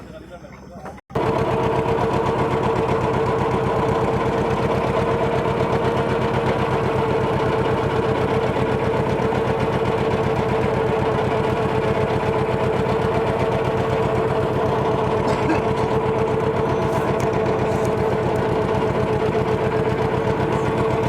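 A police speed boat engine runs steadily at close range in the Sundarbans, a loud continuous drone with a strong hum that holds unbroken from just after the start to the end.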